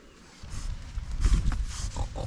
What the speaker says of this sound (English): Come here, little pig.